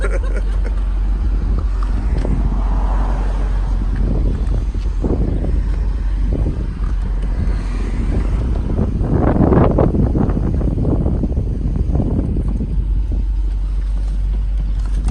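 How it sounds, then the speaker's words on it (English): A Dodge Durango SRT's deep Mopar Performance exhaust rumbles and surges as it drives in Astoria, Queens, with rising bursts of engine roar over heavy wind noise and low road drone, windows down. "Roll the windows down so you can hear the exhaust"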